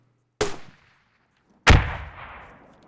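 A grenade launcher fires twice in the Squad shooter game. Each shot is a sharp, loud boom, about a second apart, and the second has a longer rumbling tail.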